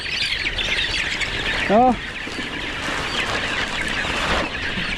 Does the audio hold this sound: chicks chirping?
yes